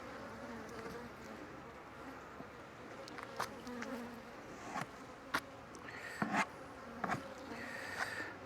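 Honey bees hum steadily at a hive, a soft continuous buzz with individual bees passing closer in brief louder swells, fairly faint and without talk.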